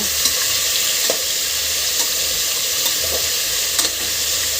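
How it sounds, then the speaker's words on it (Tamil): Mutton pieces sizzle loudly in a pan for a Tamil mutton kulambu while a spoon stirs them, the steady frying hiss punctuated by several sharp scraping clicks. "ஒரு தடவை வதக்கி விட்டுக்கோங்க அதுக்கப்புறம் இதில் என்னென்ன மிக்ஸ் பண்ணணுமோ அதெல்லாம் நம்ம மிக்ஸ் பண்ணி விட்டுக்கலாம் ஒரு டூ மினிட்ஸ் நல்லா வதக்கிக்கோங்க"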